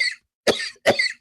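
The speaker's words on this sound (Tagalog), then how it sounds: "Ubo na lagpas 2 linggo?" Three harsh coughs from one person in a tuberculosis health ad, close and loud, each short burst separated by brief silence.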